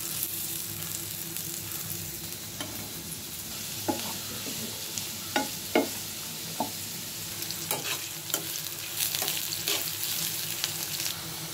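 Chopped onion and garlic fry in a little oil for a loitta shutki (dried Bombay duck) curry, giving a steady close sizzle broken by several sharp scrapes and clacks of stirring.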